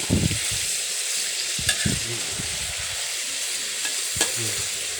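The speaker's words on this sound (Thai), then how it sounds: "บาดนี้เฮาสิมาเบิ่งทอดเนื้อเฮาบาดนี้ท่านผู้ชม เนื้อหมูกับเนื้อหมูอ่อนๆนะเนื้อหมูอ่อน" Tender pork pieces frying in a pan give off a steady close sizzle, with scraping stirring strokes breaking through now and then; nobody speaks.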